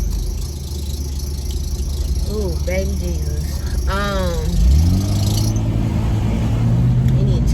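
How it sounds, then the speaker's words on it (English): A parked car's engine idles close by with a steady low drone, then rises with a squealing, belt-like whine near the end, while someone talks and exclaims over it. "if y'all hear that, that's the car next to me"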